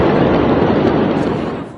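Fireworks going off inside a burning port warehouse in Beirut, a dense continuous roar of crackling bursts and pops at close range, loud and sustained before easing slightly at the end.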